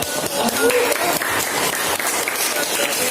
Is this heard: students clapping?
yes